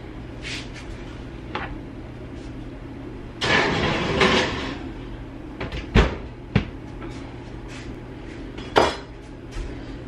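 An oven door in a home kitchen swings open and shut as a tray of biscuits goes in: a burst of clattering scrape in the middle, then a couple of sharp knocks and a final thud over a steady low hum.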